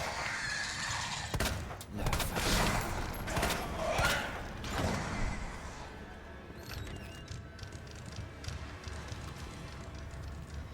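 Gunfire in the video game Resident Evil 2: several muffled shots and impacts cluster early, then fade into quieter game noise, with a voice talking over it.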